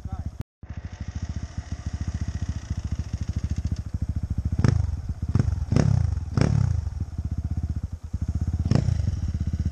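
Motorcycle engine running steadily and close, with several sharp revving bursts and clattering thumps, and voices talking over it.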